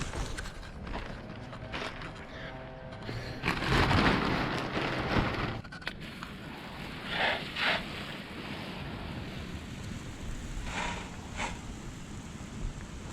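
Pressure washer spraying and rinsing house wash mix, a steady broadband hiss with surging and splashing, loudest midway through, heard outdoors with no talking.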